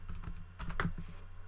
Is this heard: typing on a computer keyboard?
yes